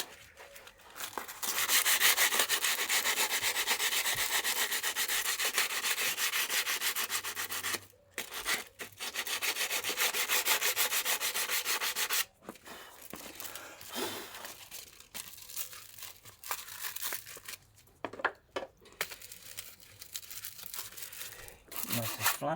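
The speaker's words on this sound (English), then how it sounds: "little bit of sandpaper and just go round and get some of this off" Sandpaper worked round a brake disc to clear off grime, a steady close rasping scrape that runs in long strokes with a few brief pauses.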